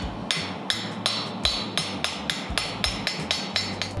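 Hammer blows on a glowing hot steel skillet handle set in a fullering tool, about ten sharp metallic strikes in a steady rhythm, loud and close with no talking.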